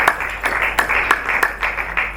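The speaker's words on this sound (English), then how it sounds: "Another round of applause for them." An audience applauds at a film premiere and awards ceremony, a steady wash of many hands clapping with a few sharper individual claps standing out at an irregular rhythm, moderately loud and sustained without any talking.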